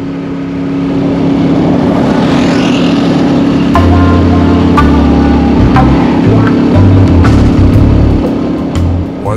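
A Royal Enfield Classic 350 single-cylinder motorcycle pulls up a steep hill in fourth gear, its engine note droning loud and steady at the top of the torque band, with the rider's wind-buffeted recording and no talk.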